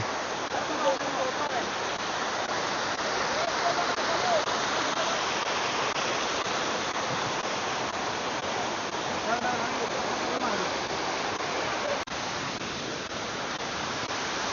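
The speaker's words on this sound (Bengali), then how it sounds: "হাটুভাঙ্গা ঝর্ণা।" Hatubhanga waterfall, reached by a forest trail beside Harinmara waterfall, pours with a constant, dense rushing roar that stays loud and even for the whole stretch.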